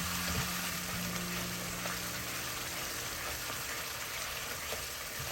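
Tomato curry base for fish curry fries in a non-stick pan as it is stirred, a steady soft sizzle with faint scraping that holds evenly throughout.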